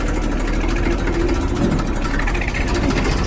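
A tractor engine runs steadily in a sesame field, a loud, even mid-pitched drone close by with no break or change in speed.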